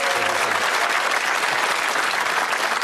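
A television studio audience at the darts game show Bullseye cheers and applauds, a loud, steady wall of clapping and whoops that fills the whole stretch without a break.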